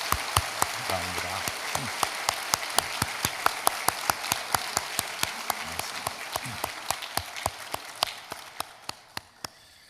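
A church congregation in Korea gives warm applause to welcome the choir, a dense round of clapping with a few sharp claps standing out, fading to scattered claps near the end.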